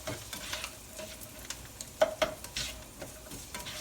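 Ricotta pasta with grape tomatoes and peas gets stirred in a pan, soft scraping and sizzling with occasional small clicks of a utensil, close and fairly quiet.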